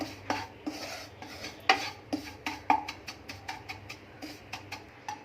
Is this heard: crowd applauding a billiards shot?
no